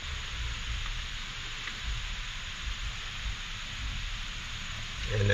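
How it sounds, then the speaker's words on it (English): Steady rain falls outdoors on a mountain bike trail near the Georgia–North Carolina line, a dense continuous hiss with a rise toward the end and no talk. "And now it's raining."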